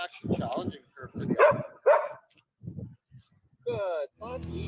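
A puppy yips and barks in short bursts between stretches of human talk, with a whine-like rising cry in the middle and a louder bark near the end.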